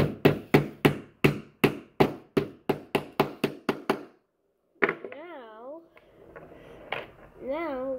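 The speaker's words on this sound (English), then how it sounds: "we're going to hammer it." A hammer drives a short nail into the axle of a homemade toy car, about fifteen sharp, quickening taps close up, then a pause followed by tonal warbling sounds.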